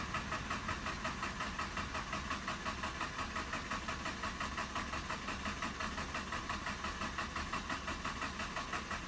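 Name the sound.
Mazda RX-8 engine cranking, failing to start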